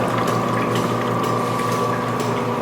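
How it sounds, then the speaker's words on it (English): An X-1 Mini juice press pressing carrots, apple and pear gives a steady, loud mechanical whir with ratcheting, gear-like clicking and a constant motor hum, running unbroken throughout. "It'll press and then once it's totally done, it'll release"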